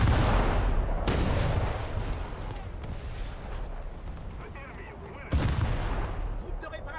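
Naval gunfire in a warship video game, with shells striking a turret: heavy booming blasts at the start and again near the end, over a rumbling battle din, with speech mixed in.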